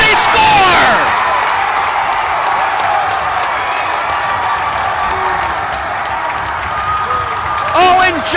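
A crowd at a high school hockey game roars and cheers after a goal, loud and sustained, with a bright burst at the start and a fresh swell near the end, under an announcer talking over it.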